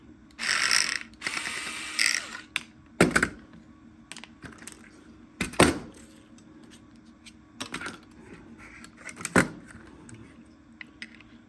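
A Bostitch stapler being taken apart with a long Phillips screwdriver bit, giving scattered clicks, ratcheting and rattling metal handling noises in short bursts with pauses, close and fairly loud.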